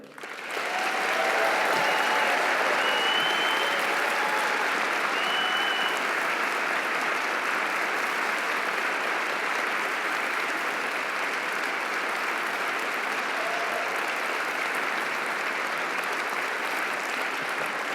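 A large audience at a mayoral inauguration ceremony applauds continuously to welcome the governor of Pennsylvania, a dense, sustained clapping that holds steady throughout, with a few scattered whoops and cheers.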